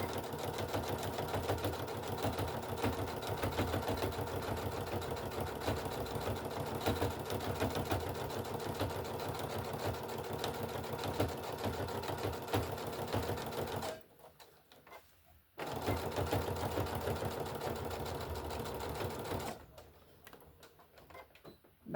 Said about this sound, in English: You have to sew the bottom shut.